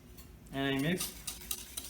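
Melted butter, sugar and salt mixed in a bowl, a brief close scrape and clink of a utensil against the bowl, with a short voiced sound partway through.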